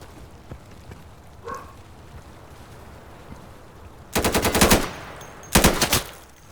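Two sharp bursts of rapid automatic gunfire ring out in the tactical shooter Insurgency, each lasting under a second, loud against quiet background noise after a brief faint tone.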